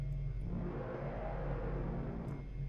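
A soda vending machine in Silent Hill starts up with a low, steady mechanical rumble and whirring hum that swells slightly in the middle, sounding like a slow motor revving, alone without talk.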